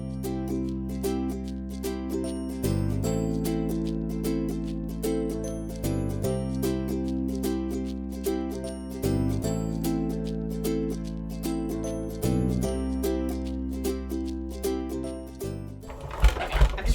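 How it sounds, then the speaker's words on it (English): A die cut machine grinds steadily as it rolls paper through to cut shapes, a loud continuous mechanical hum with regular rhythmic pulses, ending in a brief clatter. "And then I'm going to run these through the die cut machine."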